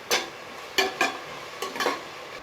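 Onions sautéing with salt in a pan for chicken curry, with a few distinct spatula scrapes and clinks against the pan over a soft, quiet sizzle, close up with no talking.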